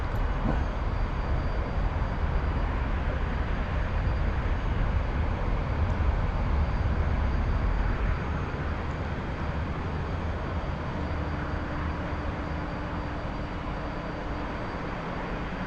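A T-45 jet in the DCS flight simulator rolls for takeoff, its engine a steady, loud roar that holds throughout and eases slightly toward the end, with no talking.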